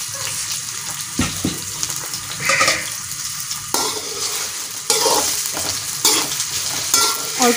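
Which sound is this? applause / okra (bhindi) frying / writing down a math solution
okra (bhindi) frying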